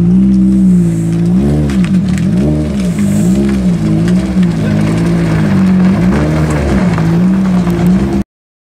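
A rally car at the Barbórka rally drives past close by, loud and alone. Its engine rises and falls through repeated revs and gear changes until the sound cuts off abruptly.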